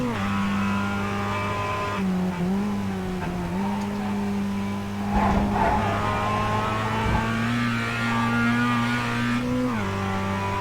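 Sim racing car engine lapping Watkins Glen in a video game, a steady loud droning tone that rises and falls through gear changes and revs, with a brief scrubbing burst near the middle, no voices.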